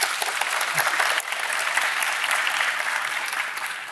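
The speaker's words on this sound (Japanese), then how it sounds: "拍手でお願いします" A room of listeners at a panel of science master's graduates working in industry gives warm, dense applause after a speaker's introduction. The clapping stays steady for several seconds, then eases off slightly.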